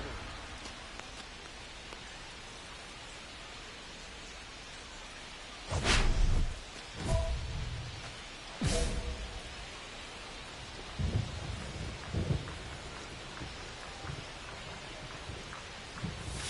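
Steady rain falls on a ballpark in the MLB 25 video game, a constant hiss, broken by several loud thunder cracks and rumbles, the biggest near the middle and smaller ones toward the end, with no talking.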